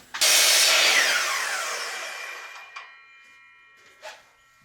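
A bandsaw cuts through a piece of scrap wood, a loud broadband whine that starts abruptly and slowly fades as the blade runs down, followed by a couple of short knocks.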